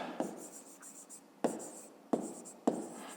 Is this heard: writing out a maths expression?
yes